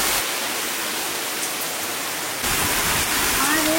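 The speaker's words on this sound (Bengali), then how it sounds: "দেখো যে কিরম বৃষ্টি নামতেছে" Heavy monsoon downpour on the day of Rath Yatra, a loud steady roar of rain pouring down without a break, growing slightly heavier midway.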